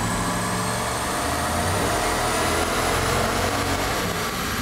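Supercharged Hemi engine in a pickup truck on a chassis dyno, roaring loud and sustained at high revs with a rising pitch across the run, no voices.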